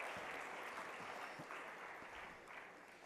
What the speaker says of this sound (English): A round of applause, sir.